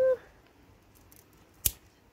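A single sharp snip of a cut at the stem of a bottle gourd on the plant, heard close and brief after a short tone, in otherwise quiet surroundings.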